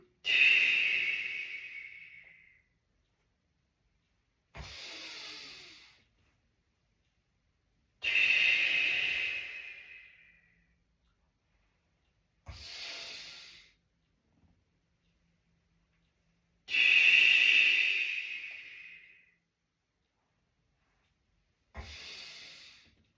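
Slow, deep breathing during an exercise routine, with long airy exhalations alternating with shorter sharp inhalations in a steady rhythm, close and fairly loud against silence.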